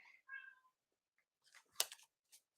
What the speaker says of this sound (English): Kitty's begging for some attention out there.